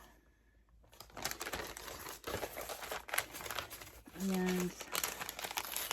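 A paper envelope handled and opened up close: sustained crinkling and rustling of paper, with a short spoken word and a brief tonal hum partway through.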